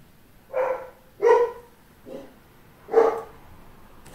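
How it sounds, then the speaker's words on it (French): A dog barks four times at uneven intervals, each bark short and fairly close, with quiet gaps between. "J'en ai marre d'entendre mes chiens gueuler"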